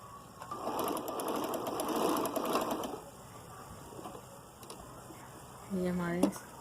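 A sewing machine stitches appliqué onto a shirt in one steady whirring run of about two and a half seconds, then falls quiet before a brief mechanical chirp near the end.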